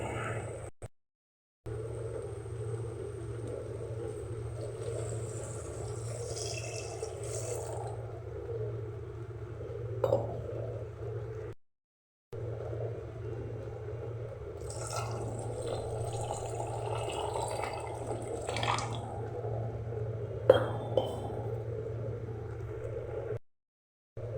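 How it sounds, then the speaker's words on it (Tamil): Water is poured into a cooking pot for a toor dal and amaranth leaf kuzhambu, a quiet steady trickle and splash, with brief pauses and a low background hum. "இப்போ தண்ணி ஊற்றிக்கணும் தேவையான"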